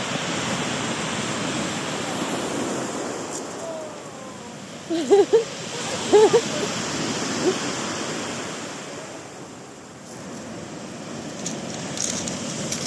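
Mediterranean Sea waves washing ashore in Nice, a steady broad wash of surf with light wind, with a few short voices or shouts breaking through in the middle.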